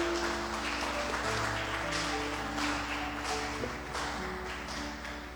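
A church congregation claps during an evening celebration service, a steady patter of hands that stays fairly quiet and gradually fades.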